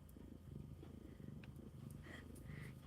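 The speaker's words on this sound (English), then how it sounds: "This guy's always purring and always giving lovies." A male cat purrs close up in a steady low rhythmic rumble, quiet and continuous, with faint small clicks and rustles around it.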